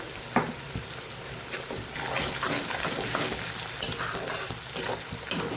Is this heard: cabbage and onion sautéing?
yes